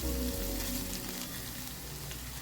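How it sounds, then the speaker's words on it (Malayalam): Grated coconut fries in a pan with tamarind, giving a steady soft sizzle that holds at an even, fairly quiet level throughout without any talk. "കോക്കനട്ട് ആഡ് ചെയ്തിട്ട് അത് ജസ്റ്റ് ഒന്ന് ഫ്രൈ ആയാൽ മാത്രം മതി"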